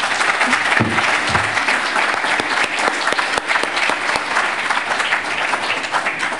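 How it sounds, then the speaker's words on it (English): Steady applause from a conference audience honoring an economics speaker at an International Atlantic Economic Society meeting in Montreal, dense and continuous throughout with a few sharper claps standing out. "I hope you will all join me in a round of applause for John."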